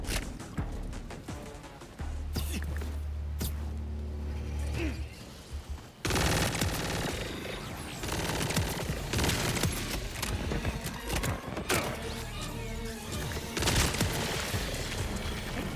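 Rapid bursts of gunfire from a high fire-rate weapon blasting enemies in Borderlands 4, dense and loud throughout with booming impacts and busy game effects layered underneath.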